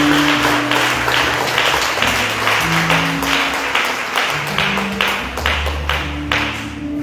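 A church congregation applauds steadily and loudly throughout, dense clapping with a rhythmic pulse, mixed with low sustained musical tones underneath.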